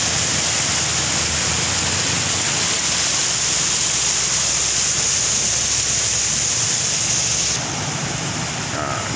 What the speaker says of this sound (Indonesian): ini banjirnya deras, arusnya deras betul